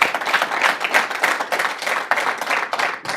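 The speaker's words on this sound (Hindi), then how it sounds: "तालियां।" Audience applause at a Hindi radio-style event in Uttarakhand, a steady burst of many hands clapping that runs for a few seconds with a fairly close, dense texture and no talking over it.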